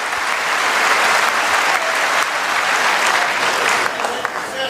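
An audience claps loudly and steadily for the full stretch, a dense continuous wash of applause with crowd noise mixed in.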